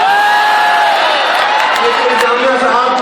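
A loud, sustained crowd roar of cheering and shouting at a university student union installation ceremony, with overlapping voices and whoops filling the space.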